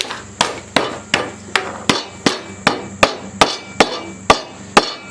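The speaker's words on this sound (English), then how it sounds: "we're going to take a hammer and just knock these out" A hammer knocks sawmill lumber about a dozen times in a steady rhythm, each blow sharp and loud with a short ringing decay.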